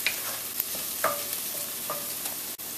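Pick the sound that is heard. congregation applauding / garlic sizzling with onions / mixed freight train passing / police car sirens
garlic sizzling with onions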